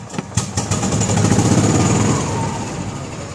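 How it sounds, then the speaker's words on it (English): A fingerprint-secured golf cart starts up with a few sharp clicks and catches, then its motor runs in a steady close drone as it drives away. "the second I turn it on, you can hear the ignition, and then I drive away."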